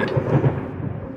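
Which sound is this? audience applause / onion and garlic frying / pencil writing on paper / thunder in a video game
thunder in a video game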